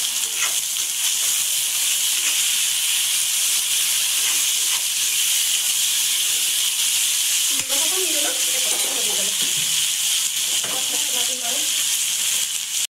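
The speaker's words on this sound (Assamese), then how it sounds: "এতিয়া মই বিলাহী দিছোঁ গোটাইখিনি মজাই ল'ম" Tomatoes fry in a hot pan with a loud, steady sizzle and hiss throughout, broken by a few clinks of stirring. Someone speaks briefly over the frying.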